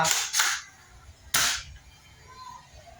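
Three sharp video game gunshot blasts from a shotgun and a handgun, two in quick succession and then one more after a pause, over a quiet low background hum.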